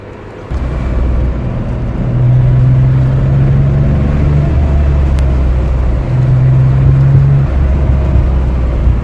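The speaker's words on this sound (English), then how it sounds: "And this happens when a bus is driving over these roads." A bus drives along a narrow Swiss mountain road in Canton Lucerne, its engine a steady, loud low drone with rising, sustained tones. No one speaks.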